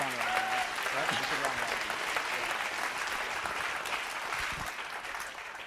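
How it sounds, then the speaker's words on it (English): A large audience at a hackathon closing ceremony applauds, a loud sustained wash of clapping with a voice speaking briefly at the start, the applause gradually tapering toward the end. "So please, a round of applause for yourselves"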